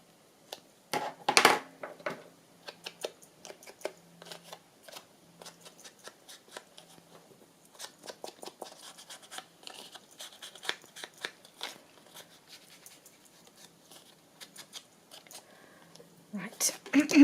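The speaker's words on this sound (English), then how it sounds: "I'm going to snip the little tiny corners." Small scissors snip the tiny corners off paper for a journal, a series of quick close crisp cuts scattered among paper handling, with soft talk in places.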